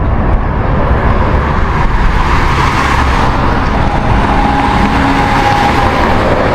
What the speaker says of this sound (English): when there's a lot of 70-something cars like these coming up here